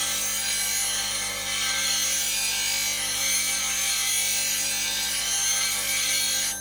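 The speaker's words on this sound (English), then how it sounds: "I'm grinding like this a little bit more" A blade being freehand sharpened on a grinding wheel, a continuous close hissing grind with a steady motor hum underneath, unbroken throughout.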